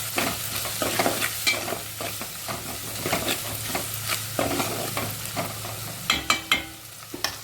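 Turmeric stirred into frying ginger-garlic paste for a white brinjal curry: a continuous close sizzle with steady scraping stirs, ending in a few sharp spoon knocks against the pan.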